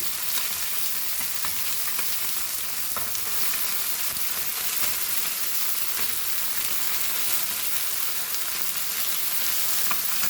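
Anchovies coated in rava fry in a pan with a loud, steady close sizzle and crackle that holds unbroken throughout.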